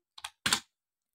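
Computer keyboard typing while entering a search: a brief burst of a few close, crisp key clicks, followed by quiet.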